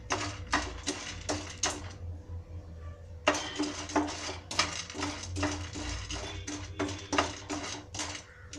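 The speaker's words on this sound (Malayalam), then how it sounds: "ഒന്ന് ഇളക്കി കൊടുത്തിട്ട് മീഡിയം ഫ്ലെയിമിലിട്ടാൽ മതി." Peanuts are stirred in a pan over a medium flame, making a run of close, sharp scraping and rattling strokes in a steady rhythm, with one short lull partway through.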